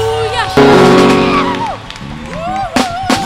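Church congregation at a bilingual French-English celebration service shouting praise to the Lord, a loud sustained crowd roar of voices and whoops with a sung or held tone, swelling then dipping before renewed bursts.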